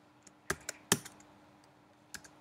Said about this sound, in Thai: ก็พิมพ์คำว่า product